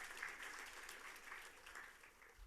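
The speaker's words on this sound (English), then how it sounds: "one more huge round of applause to welcome all our esteemed guests" A crowd at a UB Day 2024 welcome for esteemed guests gives a steady, continuous round of applause, heard faintly and evenly throughout as a dense patter of many hands.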